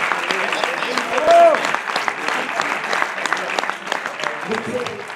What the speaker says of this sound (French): Ils méritent bien nos applaudissements.